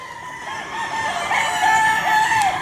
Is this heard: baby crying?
no